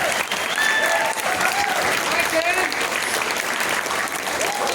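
A room full of guests at a 70th birthday party breaks into sustained, dense applause for Kenneth, steady and loud throughout with a few voices mixed in.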